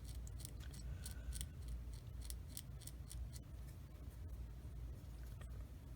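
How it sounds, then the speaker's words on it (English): Blade scraping mold lines off small plastic 1/35 scale tank crew figures, a quiet run of rapid, crisp scratchy strokes in bursts over a faint steady background hum, no speech. "So far with the scraping part, they're coming off real easily."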